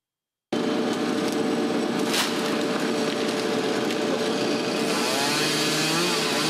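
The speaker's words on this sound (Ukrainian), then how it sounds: "Із звуку бензопили та падаючого гілля почався ранок на вулиці Немировича Данченка" Petrol chainsaw steadily pruning trees on a city street in the morning, a continuous loud close engine whine with branches falling, no talk over it.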